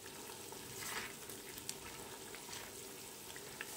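Tomato paste frying in a pot for a Nigerian assorted meat stew gives a soft, continuous sizzle with faint crackles and popping, fairly quiet and steady with no voices.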